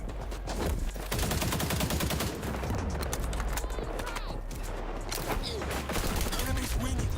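Shooter video game gunfire, with rapid, continuous bursts of shots and impacts crackling densely throughout, loud and close, mixed with game effects and a voice talking over it.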